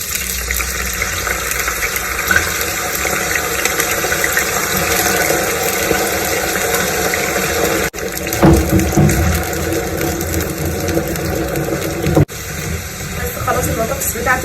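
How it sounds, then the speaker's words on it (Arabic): Potatoes fry in hot oil with a loud, continuous close sizzle and crackle, surging when more potatoes hit the oil, while a person talks over it. "الزيت بتاعي سخن، هنزل بقى بالبطاطس."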